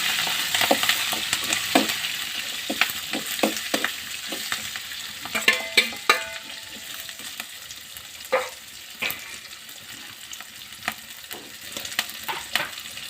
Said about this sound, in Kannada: ಇವಾಗ ಇವನ್ನ ಪೂರ್ತಿ ಒಗ್ಗರಣೆ ಹಾಕ್ತಾರೆ ನೋಡಿರಿ